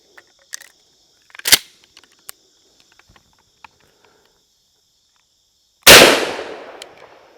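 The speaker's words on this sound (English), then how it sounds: "So we're going to shoot a 410 slug into the beer today." A .410 shotgun slug fires once, a sharp loud blast that decays over a second or so. It comes after several scattered small clicks and clanks in an otherwise quiet outdoor setting, with no talking.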